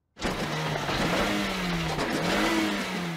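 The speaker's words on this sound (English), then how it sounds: "And then the wheels can turn and the car can go." A cartoon car engine starts with a sudden loud burst, then revs steadily and drives off. The engine note rises and falls in pitch, and no one speaks over it.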